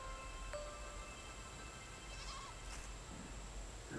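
Sheep bleat in the Garden Paws video game, faint and far off over a steady hum of ambient noise. The bleats are brief and sparse, with no talk.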